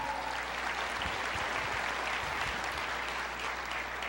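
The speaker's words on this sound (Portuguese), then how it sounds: "Pode aplaudir o Senhor" A church congregation applauds steadily during a sermon, a dense, even patter of many hands clapping that carries through the whole stretch at moderate level.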